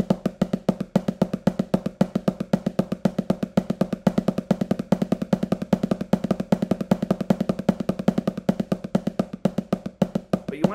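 Drumsticks bounce off a surface very fast, making a dense, even stream of rapid strikes that continues steadily for about ten seconds, with no voices.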